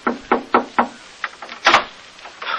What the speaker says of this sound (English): there was a knock on my door